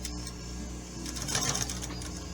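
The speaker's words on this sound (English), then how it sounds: "and then I'm going to sew across the top" A sewing machine stitches across the top of a pocket cross quilt block, an old machine running in a steady, close mechanical whir with faint tapping, no talk over it.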